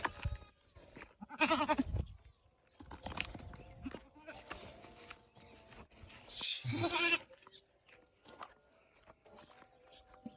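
Several goats bleating in bursts at a rural spot where wild ducks and birds are kept, with a couple of louder close calls standing out over a low background of movement and distant noise.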